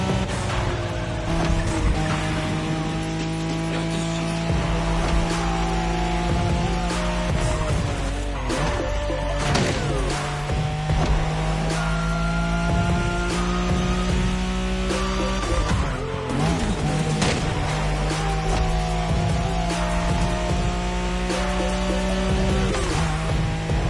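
Nissan Skyline racing in The Crew Motorfest video game, engine revving loud and continuous as it climbs through gears, with repeated tire squeals and skids.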